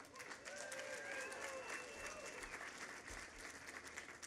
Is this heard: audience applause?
yes